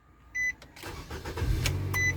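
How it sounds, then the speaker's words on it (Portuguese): A Nissan Sentra started by keyless push-button: a brief electronic beep, then the engine cranks and catches into a steady close idle, with another short beep near the end. "eu consigo aqui apertar o pé no freio, ó. E consigo ligar o carro"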